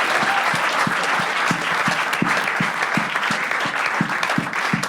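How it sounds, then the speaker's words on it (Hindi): A studio audience gives sustained, dense applause at a comedy talent show honouring a son and dad duo, loud and steady throughout with a few sharper claps standing out. "एक बार जोरदार तालियां यार आपके लिए"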